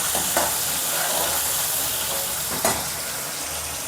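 Chopped tomato and ginger-chili paste hit hot tempering oil for a Kathiyawadi val shaak, giving a continuous close sizzle with a couple of sharper stirring scrapes.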